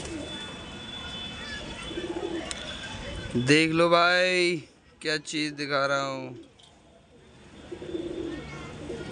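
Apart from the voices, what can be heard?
pigeons cooing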